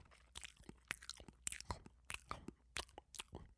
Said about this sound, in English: You can hear them munching.